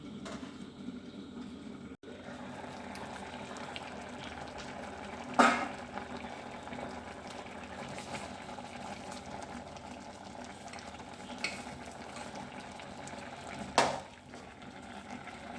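Soursop sambar cooking under a lid in a pot, a faint, steady low bubbling simmer with a couple of brief louder knocks.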